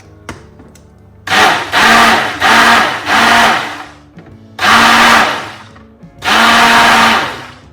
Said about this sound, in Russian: я решила буквально вот, знаете как, слегка перемешать, скажем так, блендером